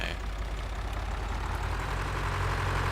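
A tractor engine idling in the video game Farming Simulator 2013, a steady low rumbling drone at moderate volume that runs unbroken throughout.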